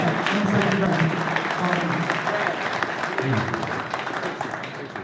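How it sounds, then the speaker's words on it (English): Applause from an awards crowd at a fishing national championship ceremony for a winner named Dwayne, steady clapping throughout with voices talking over it. "one more round of applause for Dwayne"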